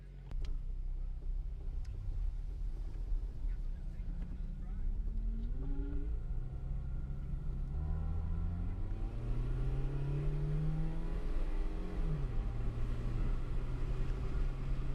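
A car engine drones steadily while driving after just starting up, its pitch climbing and falling through a few gear-like rises, with a continuous low rumble for the whole stretch.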